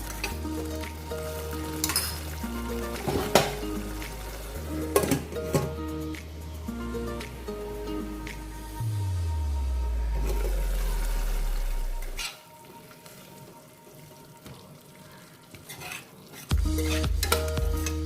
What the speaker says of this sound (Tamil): தக்காளி நல்லா பச்சை வாசனை போகிற வரைக்கும் நல்லா வதக்கிக்கலாம்.